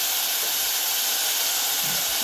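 Onions frying in a pan hiss loudly and continuously, a dense, even sizzle with no break across the whole stretch.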